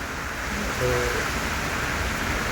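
Steady heavy rain, a dense continuous hiss of water pouring down, unbroken and fairly loud.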